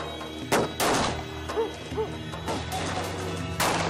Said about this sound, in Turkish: Hadi biz de bu eşyaları kapıya dayandıralım